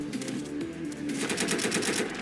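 Rapid automatic AK rifle fire in the Roblox game The Backrooms With Guns: a dense, steady stream of sharp shots with no talk.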